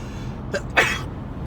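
A single short, explosive cough bursts out close by inside a car driving on I-88 in Naperville, preceded by a small sharp intake, then fades back to quiet background hum.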